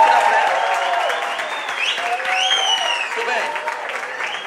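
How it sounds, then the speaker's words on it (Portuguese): Church audience clapping steadily throughout, a dense wash of applause with a person speaking over it and musical tones underneath. "vocês batem palma"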